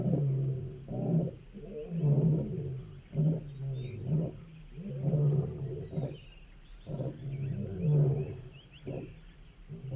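Lions in Samburu, Kenya give a series of deep, rhythmic grunting roars that repeat roughly every second and swell and fade in bouts, with distant birds faint behind them.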